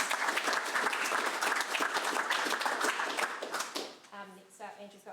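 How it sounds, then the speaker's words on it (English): A council chamber audience gives a round of applause for the team at a final council meeting, a dense burst of many hands clapping that fades out after about four seconds as voices begin talking. "So just a round of applause for you guys"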